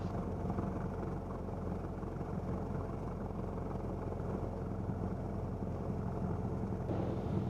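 Steady engine drone of a Cessna 172 single-engine plane at night, starting its takeoff roll down the runway, heard from inside the cabin: a constant loud hum with a low rumble that holds even throughout, with no talk.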